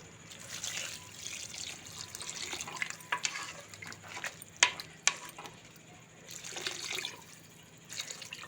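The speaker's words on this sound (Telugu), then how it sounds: "కానీ వాటర్ వేద్దాము." Water is poured into a cooking pot of tamarind-based bottle gourd stew with jaggery, a continuous trickling and splashing with a few sharp clinks, close and moderately quiet, with no voices.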